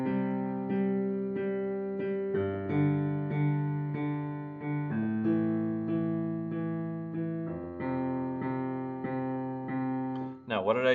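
Piano left hand plays a repeating arpeggio pattern across a I–V–vi–IV chord progression, each chord change every two to three seconds, clear and close with sustained ringing tones and no talking.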